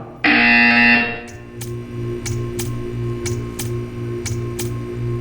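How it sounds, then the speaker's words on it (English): A harsh electronic buzzer in Portal 2 blares loudly for about a second, followed by a steady rhythmic ticking over a low synthetic hum. "You will hear a buzzer. When you hear the buzzer, stare at the art."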